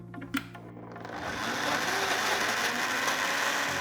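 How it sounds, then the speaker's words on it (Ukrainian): A kitchen blender whirs as it purees cooked beans with ground walnuts into a thick bean paste, starting with a few light knocks and then settling into a steady, loud, grinding motor drone. "І знову збиваємо."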